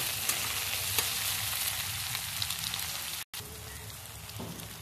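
Onion, tomato and green chilli stir-frying in a wok give a loud, steady close sizzle with faint scraping, a brief dropout near the end, and no voices.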